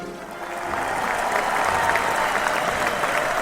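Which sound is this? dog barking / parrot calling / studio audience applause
studio audience applause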